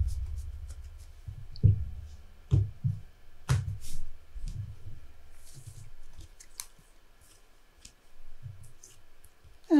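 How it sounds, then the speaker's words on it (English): A deck of Flesh and Blood trading cards being shuffled by hand on a tabletop, with soft papery riffles and scattered sharp clicks close by, fading quieter toward the end. "And I shuffle my deck."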